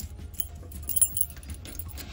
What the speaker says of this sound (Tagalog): Ay, maling susi.